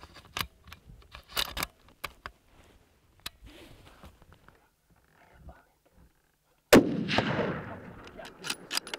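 A single loud, sharp rifle shot rings out during an ibex hunt in Mongolia, breaking a stretch of near silence and soft whispering, then trailing off in a rolling echo.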